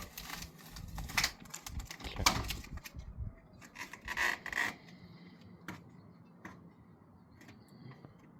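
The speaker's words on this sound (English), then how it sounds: "Just peeling off the stickers here." Stickers peel off a storm door in short crackly, scratchy bursts, a few quick tearing rips at first and then fainter intermittent scrapes, close and quiet with no talking.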